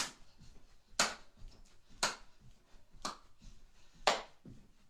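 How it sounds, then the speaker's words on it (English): Hand claps in front of the body during seal jacks in a home workout, five sharp claps about one second apart, fairly close and moderately loud, with faint movement in between. "a seal jack, which means it's a clap in front instead of the hands overhead"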